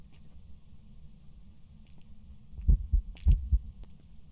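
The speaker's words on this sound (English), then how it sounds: "I heard heartbeat" A heartbeat sound effect in a video game: a faint low hum, then a few soft, thumping double beats close together near the end, with no one talking.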